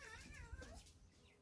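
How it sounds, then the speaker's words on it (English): A cat and a dog playing in a home garden, with close, loud cat yowls and meow-like cries over a continuous low rumble for about a second and a half. "Excuse the dog and the cat playing."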